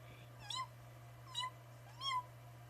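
Three separate meows from a cat, each short and fairly close, spaced about a second apart over a steady low hum, with no talking.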